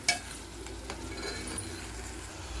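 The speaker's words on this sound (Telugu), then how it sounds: "ఒకసారి అయితే బాగా కలిపేసుకుని మూత పెట్టేసుకుందామండి" Onions and salt are stirred in a pot while making coconut and raw tamarind curry. Soft scraping and light sizzling continue steadily at low volume, with one small clink near the start.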